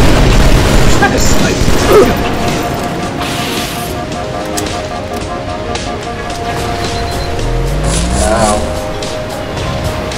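Grenade explosions from a Halo 2 capture-the-flag match on Sanctuary: low booming bursts, the loudest near the start, mixed with game effects and players talking throughout.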